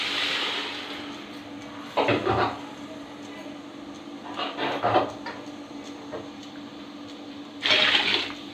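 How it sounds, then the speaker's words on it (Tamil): Water is poured into a cooking pot while bisi bele bath is being made in a home kitchen, with a few short splashing gushes over a steady background hum. "தேவையான அளவு நம்ம தண்ணி ஊற்றிக்கலாம்ப்பா."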